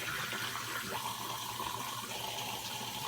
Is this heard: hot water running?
yes